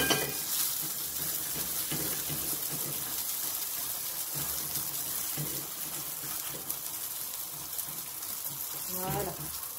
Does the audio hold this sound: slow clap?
no